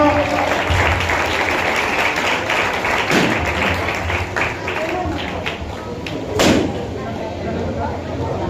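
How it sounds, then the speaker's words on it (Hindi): Congregation applause at a church feast of St Francis of Assisi with a coronation of Mother Mary, a broad wash of clapping under ongoing talk with a few sharp thumps and a louder bump near the end. "आप सबकी जोरदार तालियां"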